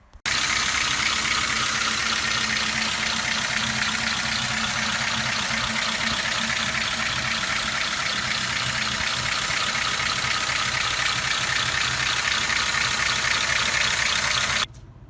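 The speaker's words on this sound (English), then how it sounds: "To demonstrate how smooth inline 8 engine could be, just look at the following video. I started this engine a while ago and just listen to it" A 1953 Pontiac Chieftain inline eight-cylinder engine idles smoothly and steadily, a low even hum with a fine rapid pulse and no variation in loudness, running alone for about fourteen seconds before cutting off abruptly.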